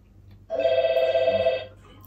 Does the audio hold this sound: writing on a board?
no